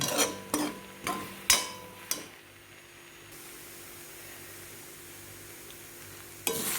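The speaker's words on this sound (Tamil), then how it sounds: "கொஞ்சம் எண்ணெய் விட்டு மறுபடியும் கிளறிட்டுருக்கிறேன்" A spoon clatters against a pan in five quick scrapes while onion and turmeric fry in oil for puffed-rice upma. A soft, steady sizzle follows, then one more knock at the end.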